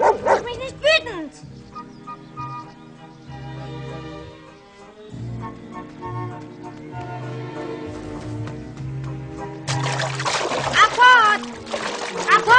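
A dog yips and barks amid splashing water, with a person talking over it; a louder burst of splashing comes near the end.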